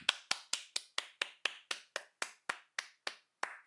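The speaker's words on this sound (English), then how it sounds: "Let's give them a round of applause." One person claps alone, about fourteen crisp, evenly spaced claps at a steady moderate pace, close and clear with silence between each one.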